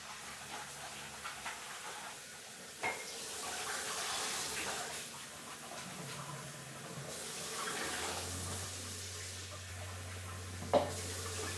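Tap water runs steadily while purple cabbage is washed in a kitchen, a soft continuous hiss and splash close by with a few light knocks and clatters.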